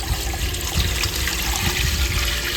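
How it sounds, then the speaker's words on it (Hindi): A full jug of water poured into a large cooking pot set on a wood-fired chulha for desi kheer, a steady broad rush of splashing water running continuously and fairly loud throughout. "ये पूरा जग पानी का हमने इस बर्तन में डाल दिया।"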